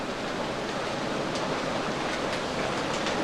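Maple sap boiling hard in evaporator pans, a dense, steady rushing roar with a constant bubbling hiss and no pauses, close and fairly loud.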